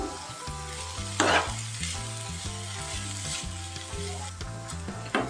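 Boiled banana stem stir-fried with soy sauce in a pan for fried rice, loud continuous sizzling with rhythmic scraping strokes of a spatula repeating every half second or so, no talking.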